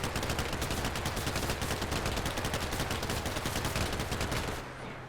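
Sustained machine gun fire in the Combat Mission: Black Sea wargame, a dense, rapid stream of loud gunshots rattling steadily for several seconds before tapering off at the end.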